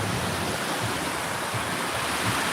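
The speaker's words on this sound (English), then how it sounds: "Can you hear the waves?" Ocean surf rolls in at a palm-lined beach, a steady, dense wash of breaking waves heard close and alone, with no voices over it.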